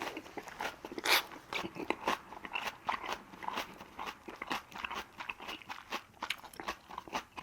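Crunchy scorched-rice (nurungji) chicken salad chewed up close, a steady run of loud crisp bites and crackling crunches with no talking.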